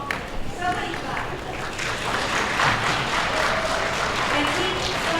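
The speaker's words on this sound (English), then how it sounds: "No, somebody clap." A group of people clap together in a room as part of a rainstorm sound game, producing a dense, steady patter of overlapping claps that swells slightly midway and continues throughout.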